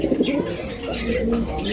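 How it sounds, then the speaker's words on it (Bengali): High-flying racing pigeons coo in a short, close, rounded burst of throaty calls, with faint background noise. "খুবই সুন্দর একটা হাই ফ্লাইং রেসার কবুতর পাইতেছেন"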